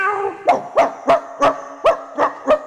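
A voice imitates a puppy barking, giving seven evenly spaced yips close to the listener, each short and sharp with brief pauses between, no other talk.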